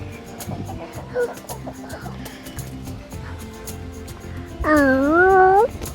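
Chickens cluck in short, scattered bursts against a busy background, with a longer, louder tonal call near the end, all fairly close.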